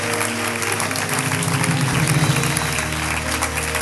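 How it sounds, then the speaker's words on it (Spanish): Church congregation applauding during an evangelism service, steady dense clapping throughout over a low sustained musical hum. "Dele un aplauso al Rey con todo su corazón"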